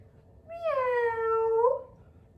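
A person's voice imitates a cat's meow, a single drawn-out harmonic call that rises, holds steady and then lifts at the end, clear and close against a quiet background.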